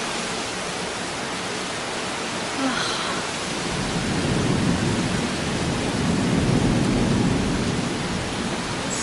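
Heavy rain pours during a thunderstorm outside a balcony, a loud constant wash of hiss with a low rumble of thunder swelling midway and lingering under the downpour.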